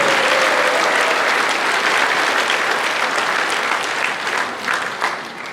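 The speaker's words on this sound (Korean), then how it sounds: "박수 한번 크게" Dense, sustained applause from a large crowd of party members at a People Power Party Chungnam provincial event, steady and loud throughout before easing slightly at the end.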